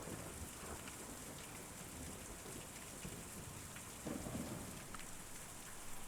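Thunderstorm in the game Kentucky Route Zero: steady heavy rain pours across the whole stretch with low rumbling thunder beneath, swelling briefly louder near the end, no voices.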